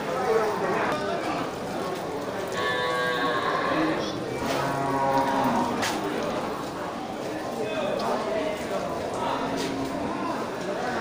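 Aceh water buffalo at a livestock market in Bireuen, including crossbred animals and bulls seeking to mate, low drawn-out bellows and moans rising over the busy crowd, with someone talking throughout.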